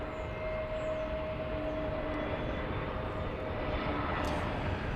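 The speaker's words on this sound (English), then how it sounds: "This is arriving from Phoenix. It's an Airbus A320 Neo." A Frontier Airbus A320neo arriving at DFW Airport gives a steady, distant jet roar that holds even throughout, with no talk over it.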